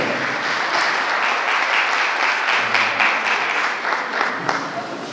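An audience of students and officials applauds a special guest from the Department of La Paz, the clapping loud, even and sustained for five seconds with a faint crowd murmur beneath.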